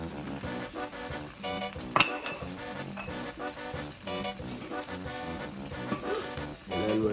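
Bacon frying in oil with onions, a steady sizzle running the whole time, joined by a few light clinks of a pan or utensil near the middle.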